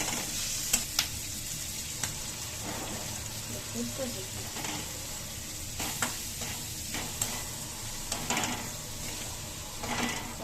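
Onions sizzle and crackle in a hot pan beside salted dried hilsa, with an even frying hiss and occasional stirring scrapes close up while someone talks over it.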